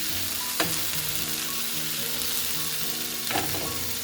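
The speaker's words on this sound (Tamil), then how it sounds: "சூப்பரான வஞ்சிர மீன் ரெடி ஆகிட்டு இருக்குது" Kingfish (vanjiram) frying in hot oil, Kerala style: a steady close sizzle with a couple of sharper pops and spatters.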